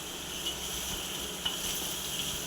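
Kappa (cassava) and chicken are stirred in a hot pan, a soft, continuous sizzle with a few faint scrapes and taps of the spoon.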